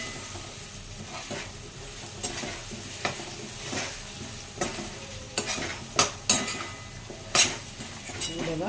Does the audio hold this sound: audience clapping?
no